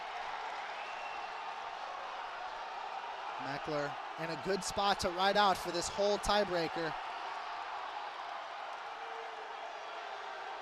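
Crowd at a Wisconsin vs Michigan college wrestling dual cheering and clapping in a steady background roar, with a commentator talking over it in the middle and sharp bangs and claps rising briefly beneath his voice.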